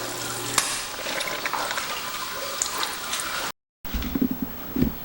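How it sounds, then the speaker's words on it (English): Parts from a 1972 Gravely 430 mower get rinsed under a running tap in a sink, a steady close water rush that breaks off briefly and then resumes with splashing. "Let me take these up over to the sink and get them rinsed."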